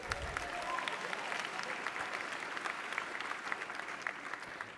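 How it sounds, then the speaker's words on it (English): Steady applause from an audience at a high school academic awards assembly fills the whole stretch, dense and even clapping with no pauses, loud and continuous. "you can clap for that, that's good."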